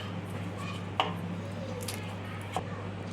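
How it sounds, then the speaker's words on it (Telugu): A knife chops curry leaves, coriander and green chillies on a board, with a few distinct chops standing out over a steady low hum. "ఇలా కట్ చేసుకోవాలి."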